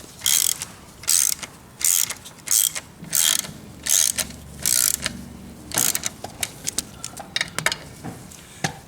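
A ratchet wrench tightens the lock nut on a motorcycle rear axle, rapid clicking strokes repeated in a steady rhythm of about a dozen pulls, close and crisp, gradually becoming shorter near the end.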